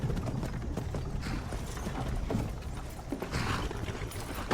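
Horse-drawn cart in Skyrim, with steady clip-clop of hooves mixed with creaking, rattling wooden wheels and mechanism, close and continuous for a few seconds without speech.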